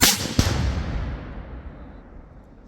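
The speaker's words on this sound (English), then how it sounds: "Firing. Firing. Firing." A single loud, close gunshot cracks out and rolls away in a long fading boom, with a faint second report just after the first.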